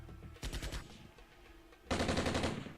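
Bursts of gunfire from the tank warfare strategy game Armored Brigade: a rapid burst of shots, a quieter stretch, then a second, louder sustained volley near the end, with no talking.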